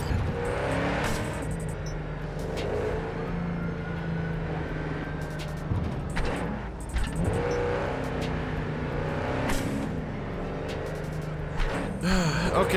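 A car in Cyberpunk 2077 drives off under a steady engine drone with revving swells, game music and effects layered over it throughout, held at a fairly constant loudness.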